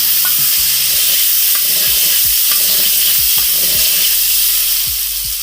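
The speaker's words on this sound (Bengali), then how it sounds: "দিয়ে ডিমগুলো ভেজে নেবে।" Eggs frying in hot oil seasoned with salt and turmeric give a steady close sizzle, broken by repeated scraping strokes of a spatula against the pan.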